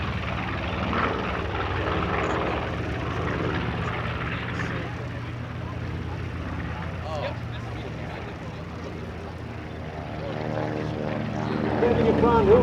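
A TBM Avenger torpedo bomber, a propeller warbird, taxis past at an air show open house, its engine a steady loud droning roar that swells near the end as it draws closer, with crowd voices underneath.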